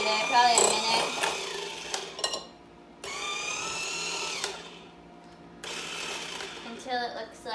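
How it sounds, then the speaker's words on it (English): Kitchen blender whirring through vegan brownie ingredients in two long bursts separated by a short pause, close and fairly loud, with someone talking around the runs. "Just keep blending it until it's all incorporated, probably a minute."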